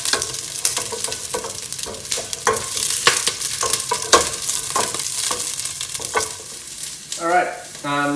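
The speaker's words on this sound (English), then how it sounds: "I'll just add these aromatics in, just to let them fry off a little bit." Aromatics fry in hot oil with a busy crackling sizzle, while repeated spoon strokes scrape and clatter against the pan throughout, close and fairly loud.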